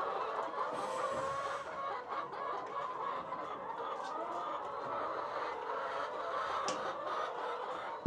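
Hens cluck steadily at a water station in a pasture, a dense, continuous flock chatter with occasional louder calls rising above it, no talking.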